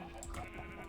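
A short squealing pig cry from Minecraft, game-like and bleating, sounds once near and loud over a steady background hum.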